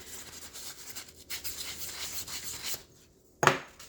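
Rubbing alcohol being wiped across the top of a Husqvarna 55 chainsaw piston, close scrubbing and rubbing strokes in uneven bursts, then a short pause and one sharper swipe near the end, with no talk.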